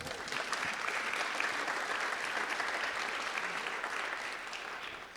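An audience at a State of the City event in Anacortes claps in a full, sustained round of applause that fades slightly toward the end.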